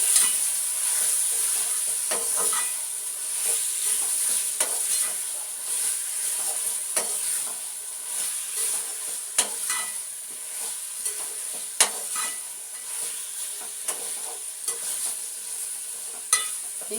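Chicken for biryani sizzles and fries in a pan while a spoon stirs it, a steady hiss broken by repeated scraping clicks, close up with no speech.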